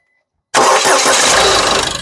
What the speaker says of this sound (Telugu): సింగిల్ సెల్ఫ్ లో కార్ స్టార్ట్ అయితే ఎటువంటి స్టార్టింగ్ ట్రబుల్ అయితే లేదండి